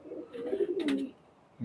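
Pakistani highflyer pigeons coo softly and close by, a low throaty rolling call with a brief breathy flutter in the middle and another coo starting at the end.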